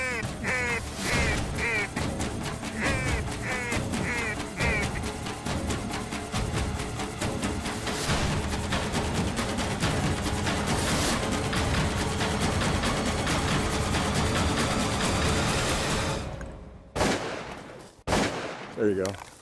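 Shotgun blasts during a California duck hunt over decoys, mixed with crow-like caws and quacking; loud sharp reports ring out repeatedly amid dense outdoor noise, with a couple of isolated shots near the end.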